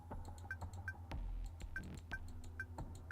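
A phone dialed in the NIKKE video game: a steady run of short, evenly spaced electronic beeps with light ticks between them over a low background hum, with no speech.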